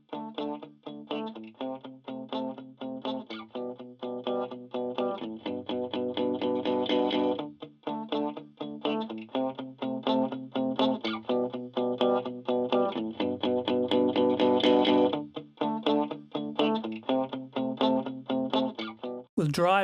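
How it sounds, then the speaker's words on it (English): A repeating synth or keyboard pattern pushed into gritty overdrive through virtual analog circuitry with the gain driven into the red, with fuzzy, buzzing distorted tones pulsing in a steady rhythm. "the virtual analog circuitry overdrives and distorts audibly"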